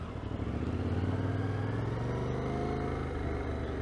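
A motorcycle engine on the road during a riding lesson, a close, continuous low engine drone with slight pulsing as the revs rise and fall.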